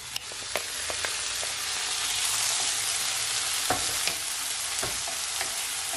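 Chopped onion and garlic fry in a pot over low heat, a steady close sizzle broken by sharp clicks and scrapes of stirring.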